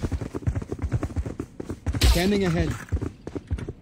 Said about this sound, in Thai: ฟินิกเขาชอบเดินดังฟินิก